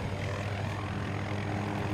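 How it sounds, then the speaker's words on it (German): A transport helicopter in the shooter Battlefield 2042 gives off a continuous low rotor-and-engine drone, steady and moderately distant, with no talk over it. "Transport-Heli kommt vom Spawn."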